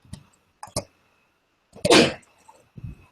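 A single sharp, loud sneeze bursts out close by in a quiet room, preceded and followed by short soft noises.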